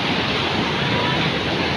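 Water rushing out at a waterfall beneath a former broken bridge, a loud, close, unbroken roar of flowing water filling the whole moment.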